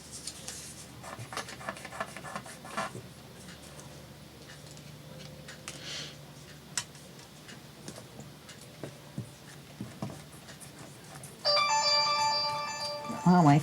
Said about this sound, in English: Oh, my phone and my computer went off at the same time.